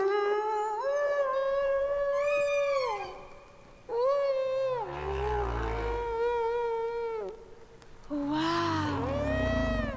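A voice imitates whale song with long, sliding, wavering tones, loud and close, in several drawn-out phrases separated by brief breaths.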